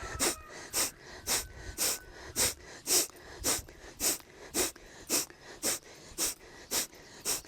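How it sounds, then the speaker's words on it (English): Rhythmic sharp exhales through the nose during yoga twists, about fourteen quick, evenly spaced puffs of breath that repeat steadily and close to the microphone. "Sharp exhales through the nose."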